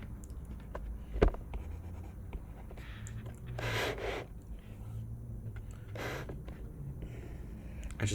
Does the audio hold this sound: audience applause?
no